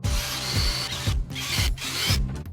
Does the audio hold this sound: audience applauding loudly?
no